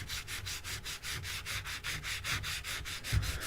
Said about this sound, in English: as we're slowly sanding